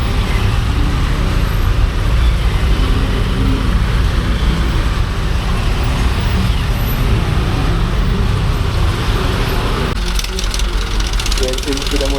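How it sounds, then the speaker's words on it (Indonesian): Heavy, congested traffic on the road to Puncak Bogor heard from a motorbike, a dense, loud rumble of idling engines and buses with constant road noise and voices talking over it. "Gila macet banget guys."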